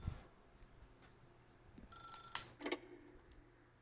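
Faint telephone ring in The Stanley Parable game, a short electronic trill heard once or twice at low level against quiet room tone.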